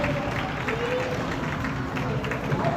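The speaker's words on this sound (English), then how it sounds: "McKinney folks clapping and happy that they got a 1-1 game here with 58 seconds left to go in the first here" Home crowd clapping and cheering at an ice hockey game between the McKinney Northstars and Dallas Penguins, a steady wash of arena noise with an announcer talking over it.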